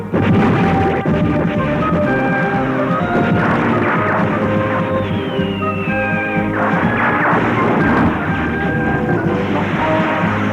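Ship turret cannons firing during an animated space battle: dense, loud, continuous booms and crashes layered over dramatic orchestral music, with no talking.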